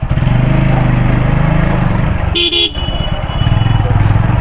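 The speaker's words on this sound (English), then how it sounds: "Everyone looks at you whenever you like rev it out." Motorcycle engine running loud and close on a crowded road, a steady buzzing drone throughout with a brief double horn toot in the middle.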